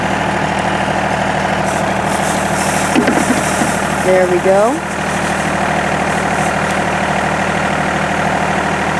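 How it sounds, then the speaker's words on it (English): Tractor engine holds a steady 1600 rpm drone while a boom sprayer runs during calibration, a loud, close, even rumble throughout, with brief speech partway through. "We've got our tractor at 1600 and all boom spraying."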